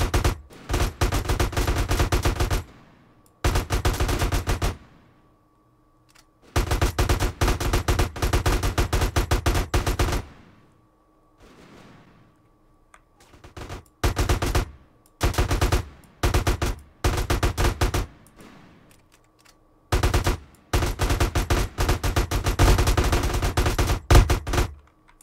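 Gunfire in GTA San Andreas Definitive Edition comes as repeated loud bursts of rapid automatic shots, with brief pauses and sparse single shots between them and a faint continuous game tone underneath.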